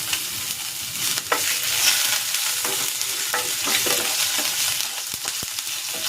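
Sliced ginger fries in hot cooking oil for a soy-ginger steamed pompano dish, with a constant close sizzle broken by stirring scrapes and a few sharp utensil clicks.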